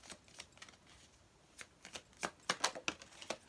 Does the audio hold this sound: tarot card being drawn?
yes